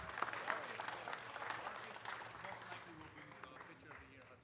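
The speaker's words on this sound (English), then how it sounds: "give these young men behind me a round of applause" A crowd applauds a county champion high school baseball team at an outdoor gathering, a faint, distant patter of clapping that swells early and gradually thins out, with scattered voices underneath.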